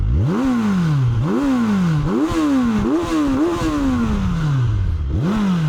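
Loud, close Kawasaki Z1100 SE motorcycle exhaust revving repeatedly, the engine pitch rising and falling in a series of quick throttle blips.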